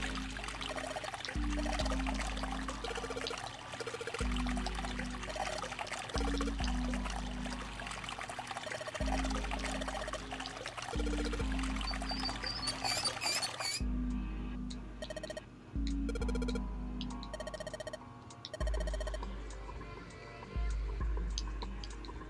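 Water pours and rushes in continuously in the 999 video game, a broad watery wash over a steady, rhythmic low thumping pulse that thins out partway through.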